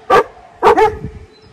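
A small dog gives three sharp, close barks: one single yap, then a quick double bark after a short pause.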